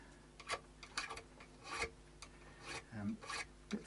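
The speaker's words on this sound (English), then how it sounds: "it helps to have this protected off so that this little file doesn't slip off" Small file rasping across the fret ends of an Epiphone Les Paul Traditional Pro guitar, with short, irregular scraping strokes that are quiet and close.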